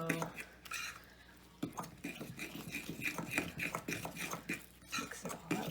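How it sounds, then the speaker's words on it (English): Peanut butter cookie dough being mixed in a bowl, heard as irregular scraping and clinking of a utensil against the bowl in quick, uneven strokes, close and fairly quiet. "So let's mix that all in here, because we don't want it to be too runny of a dough."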